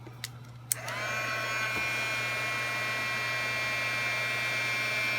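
A heat tool warms small silver charms during colouring, switching on after a couple of soft clicks and then blowing a steady, close airy whine with a faint high tone that holds to the end.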